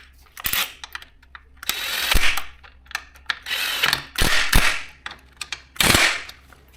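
Ratchet wrench tightening a rearset bolt on a Suzuki GSX-S750 motorcycle, several bursts of loud close clicking with short pauses between strokes.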